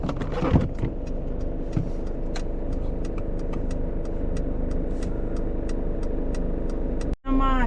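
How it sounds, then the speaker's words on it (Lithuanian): A car engine hums steadily at close range as a low continuous drone from inside the moving vehicle, with a brief cut near the end before the sound returns. "Mašina."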